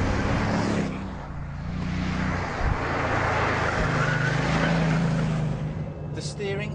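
A Bugatti at full throttle gives a loud, continuous engine roar whose pitch climbs steadily through the gears, with a brief dip at a shift and faint wind noise, heard from inside the car without talk.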